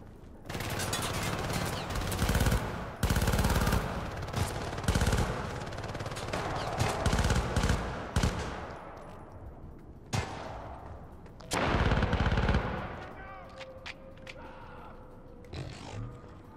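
Gunfire from a new gun in the 2012 Syndicate game, repeated loud heavy bursts and booms in long rapid volleys, with pauses and a few separate blasts between them.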